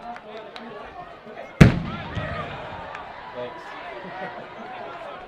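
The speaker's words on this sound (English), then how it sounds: "And the cannon goes off for the fourth time tonight." A cannon fires at a high school football game after a touchdown, one sharp loud boom that rings out over crowd noise while an announcer talks over the stadium.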